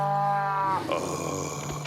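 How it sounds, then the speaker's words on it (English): Cows in an animated adventure series lowing one after another, a drawn-out moo followed by softer overlapping calls from the herd, fairly close and without talk. "We just surrounded a bunch of cows."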